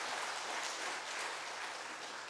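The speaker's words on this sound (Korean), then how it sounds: "이때는 박수 쳐도 돼요." Church congregation applauding indoors, a steady even wash of clapping that fills the whole clip with no talk over it.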